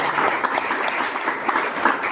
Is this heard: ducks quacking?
no